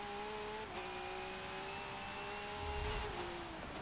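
A V8 Supercar in Forza 7 revs hard at Brands Hatch with a continuous, rising and falling engine whine. Its pitch dips briefly as it shifts down. The engine sounds close and loud, with no voices.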